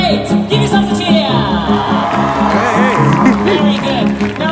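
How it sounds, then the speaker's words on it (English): An outdoor theatre audience at a West End musical event in Trafalgar Square, London, cheers, whoops and claps loudly in a dense burst, mixed with amplified voices and music. "Give yourself a cheer!"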